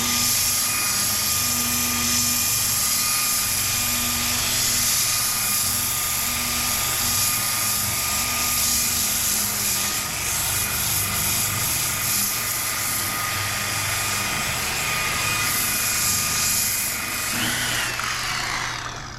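A power tool strips paint off a car hood down to bare metal, giving a loud, steady high-pitched whine with a constant drone that holds for the full stretch before tapering slightly at the end.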